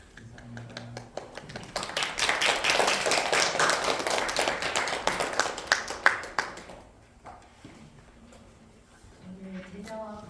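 An audience at a workplace mission training lecture at Daejeon City Hall applauds warmly with dense, rapid hand claps that build and then fade away. A voice speaks over the clapping near the end.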